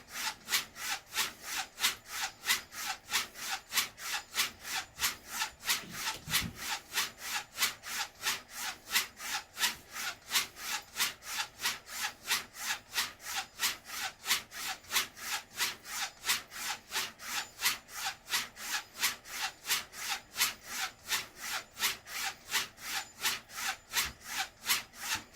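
A blade is honed on an Arkansas finish stone in steady, fast back-and-forth strokes, a close, even rhythmic rasping that continues without pause.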